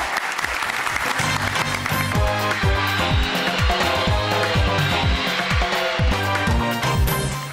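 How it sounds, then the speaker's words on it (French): A studio audience on the French TV talent show Vous Avez du Talent claps continuously beneath loud, rhythmic band music that plays throughout. "Applaudissements!"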